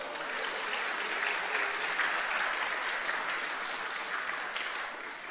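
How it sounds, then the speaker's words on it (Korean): A church congregation applauds steadily for about five seconds, a dense, even wash of clapping from many hands that fills the room and tapers slightly at the end. "박수."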